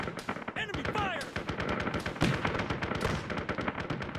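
Enemy gunfire in ARMA 3, during a Warhammer 40K-themed Ork operation, comes as a dense, fast crackle of close shots with a voice briefly calling out at the start.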